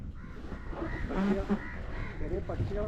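Crows caw repeatedly from a moderate distance near a nest in a tree at Kadalundi, Kerala, while a person talks nearby over faint outdoor background noise.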